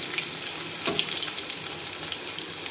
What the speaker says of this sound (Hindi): जीरा हमारा खिल जाए तो इसके साथ ही मैं डालना चाहूँगी लहसुन।